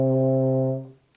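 A euphonium holds a single low C played with the first and third valves, a steady, warm, close tone lasting about a second before it fades out.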